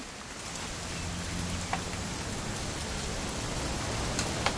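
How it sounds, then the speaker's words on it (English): Continuous rainfall in What Remains of Edith Finch, a broad constant wash with occasional faint drip ticks, steady level throughout and no talking. "It's gonna rain the whole weekend, isn't it?"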